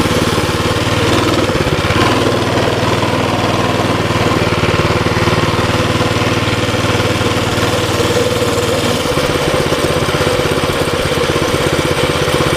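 A Baja Warrior mini bike's small engine runs steadily during a ride, a loud, constant buzzing drone with a slight shift in tone partway through and no voices.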